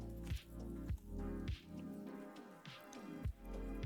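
Water Pulse attack effect in a competitive Pokémon video game battle. A run of wet, squishy bursts lands roughly every half second and repeats several times. It sounds fairly quiet, with game music underneath.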